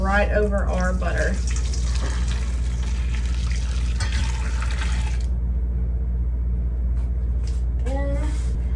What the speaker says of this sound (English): Pour that boiling water right over our butter.